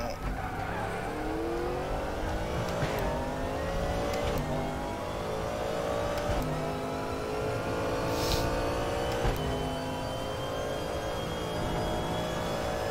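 A GT3 race car engine in the RaceRoom racing game at the Red Bull Ring, damaged with broken suspension, revs repeatedly through rising gear pulls with brief tire squeal, a continuous, moderately loud engine drone.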